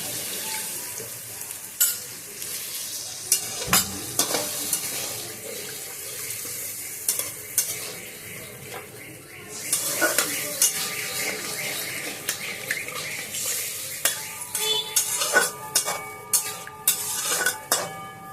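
Spice paste thinned with bowl-rinse water sizzles in a pan of pointed gourd cooked in yogurt and oil, a steady frying hiss broken by frequent spoon scrapes and clinks as it is stirred.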